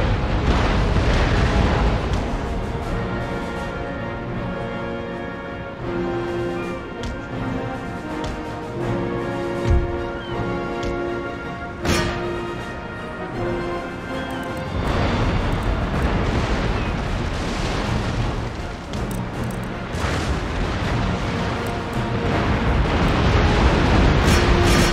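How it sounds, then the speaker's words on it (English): Naval battle in Empire: Total War, with cannon fire and explosions booming repeatedly over a dense, continuous roar of battle noise, loud and sustained throughout with no talking. "Let's hit them with more guns first."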